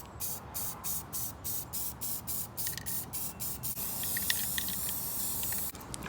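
Spray paint hisses onto a Jeep Cherokee tire outdoors in short repeated bursts, then one longer steady spray, with wind noise mixed in.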